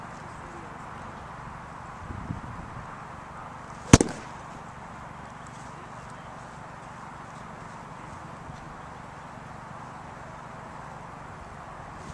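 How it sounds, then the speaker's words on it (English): A single sharp golf club strike on a ball during a full swing, one crisp close crack standing out against steady outdoor background noise. "I go up and try to get the same feeling, and then go and hit a shot"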